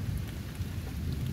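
Thunderstorm in the UK with steady heavy rain and a continuous low rumble of thunder, loud and dense throughout with no speech.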